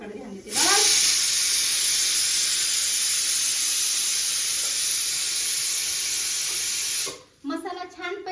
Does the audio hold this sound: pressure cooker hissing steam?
yes